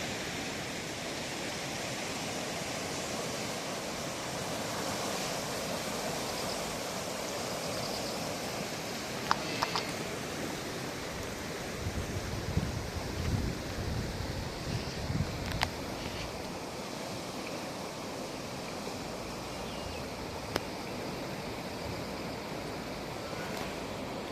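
A steady, broad roar of rushing water from the Karthanur river, swollen during Cyclone Fengal, continues throughout, with occasional faint clicks and knocks over the flow.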